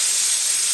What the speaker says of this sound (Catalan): Amb l'oli ben fort hem de marcar les galtes